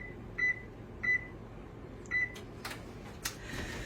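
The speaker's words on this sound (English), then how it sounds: "I'm going to preheat my oven to 350" Kitchen oven control panel being set to preheat to 350, three short electronic beeps spaced about a second apart, followed by faint clicks and soft handling noise in a quiet room.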